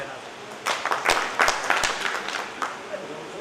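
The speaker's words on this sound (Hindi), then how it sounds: "तालियां एक बार तालियां।" People at a political party meeting give a round of clapping in a hall: uneven bursts of hand claps, moderately loud, that swell and fade, with a voice speaking through them.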